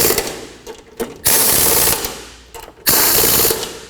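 A ratchet with a 13mm socket snugs strut mount bolts on a 2005-2010 Pontiac G6, giving two close, loud bursts of rapid ratcheting clicks, each ending with a few slower clacks.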